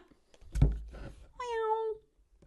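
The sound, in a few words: cat meowing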